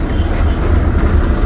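A train rolls past right beside the road, producing a loud, close, steady low rumble that holds without pause and with no talking over it.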